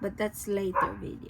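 A dog barks in a quick string of short yips and woofs nearby, overlapping with a person talking.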